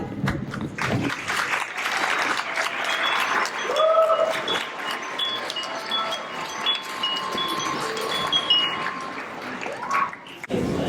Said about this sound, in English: clapping is the traditional nonverbal expression of appreciation